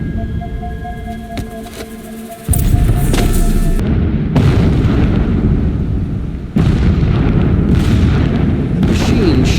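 Heavy explosive blasts in Horizon Zero Dawn boom one after another, with sudden loud detonations over rumbling low-end debris and a sustained roar between hits, no voices.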